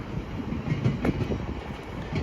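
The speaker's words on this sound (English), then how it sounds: "Oh, we got a GO train rolling in." A GO commuter train rolls into a Toronto station in Etobicoke, a continuous low rumble with rhythmic clickety-clack of wheels over rail joints, steady and fairly close, with street ambience around it.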